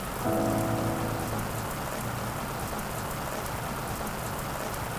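Heavy rain pours down in a dense, constant hiss, with a brief low tonal sound early on, steady and close throughout.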